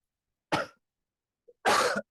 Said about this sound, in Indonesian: Aku batuk, keselak asap aku.